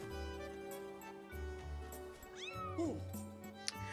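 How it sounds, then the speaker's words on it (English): A cat in The Legend of Zelda: Skyward Sword gives a short, wavering meow partway through, heard over game background music and ambient tones. "There's one ugly cat."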